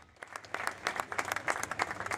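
A crowd in a Paris street applauds firefighters returning from the Notre-Dame fire, with dense, uneven clapping from many hands at a moderate distance throughout the short stretch.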